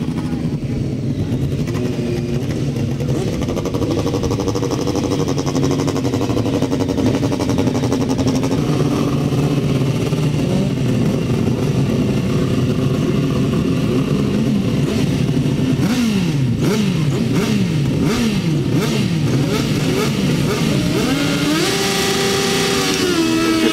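Grasstrack racing motorcycles lined up at the start of race 25 at the 2007 Norman Southgate Memorial meeting, several engines revving loudly and repeatedly with rising and falling pitch, with a voice over them.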